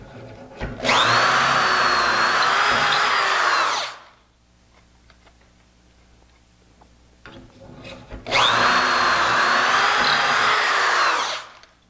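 A power drill whines loudly for about three seconds, pauses with faint handling noises, then drills again for another long burst, close up.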